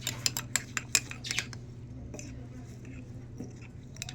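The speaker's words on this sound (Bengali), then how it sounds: "তো এখন আমি সুন্দর করে নেড়ে নিচ্ছি।" A spoon scraping and clinking against a dish while stirring, a quick run of sharp metallic taps early on, then quieter intermittent scrapes over a low steady hum.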